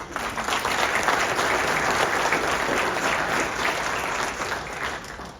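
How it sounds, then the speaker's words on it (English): Hearty, steady audience applause for Mike Purcell, IGA board president, at a golf superintendent awards evening, continuous clapping throughout, filling the room. "So we'll give Mike a round of applause."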